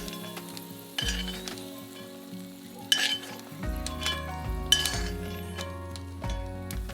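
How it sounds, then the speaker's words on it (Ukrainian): Steady sizzling of garlic frying in a pan, with occasional clinks and stirring sounds of a utensil against metal; no voices. "І першочергово обсмажуємо часник."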